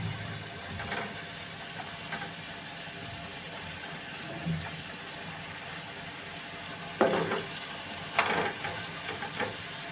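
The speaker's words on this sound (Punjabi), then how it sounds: "ਇਹਨਾਂ ਪਾ ਕੇ ਚੰਗੀ ਤਰ੍ਹਾਂ ਕਰਾਂਗੇ ਜੀ ਮਿਕਸ ਤਾਂ ਕਿ ਮਸਾਲਾ ਚੰਗੀ ਤਰ੍ਹਾਂ ਸਾਰੇ ਨਿਊਡਲਾਂ ਲੱਗ ਜਾਵੇ" Spaghetti noodles hiss and sizzle as they are stir-fried with masala, chilli and coriander powder in a hot pan. There is a steady frying sizzle with occasional scraping stirs and louder clattering bursts near the end.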